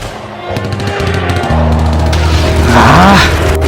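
Gunfire rings out during a school drama performance staged for an Indonesian Independence Day celebration, rapid loud bursts over a constant background hum, with shouted voices briefly rising near the end.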